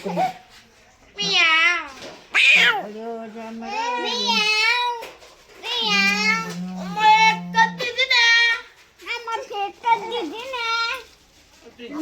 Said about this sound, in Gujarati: બિલાડી ભાગી જઈ. બિલાડી આવી.